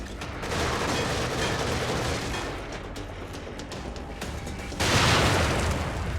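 An enemy's machine gun in The Evil Within rattles in a continuous loud burst, dipping slightly midway before a heavier, louder stretch of fire near the end.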